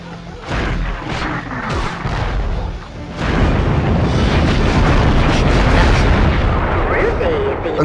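A tank destroyed in a 1998 PlayStation game, heard as a loud rumbling explosion with booming blasts that swells into a sustained roar and dense crackling debris, close and continuous.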